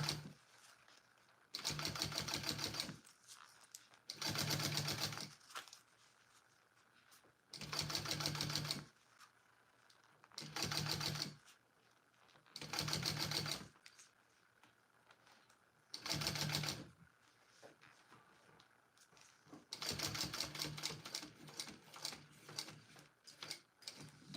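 A sewing machine stitches fabric in repeated short bursts, seven loud rattling runs of one to three seconds each separated by quiet pauses, the last run the longest.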